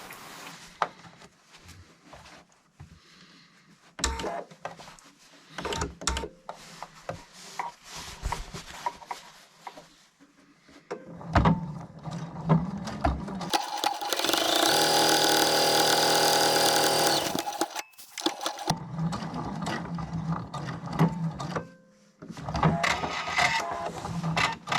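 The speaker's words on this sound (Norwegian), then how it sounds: "så syr jeg først en stikning nederst på mansjetten" Sewing machine stitching along the bottom of a jacket cuff, a loud steady whir lasting about five seconds, set among quieter fabric handling, short stop-start stitching bursts and clicks.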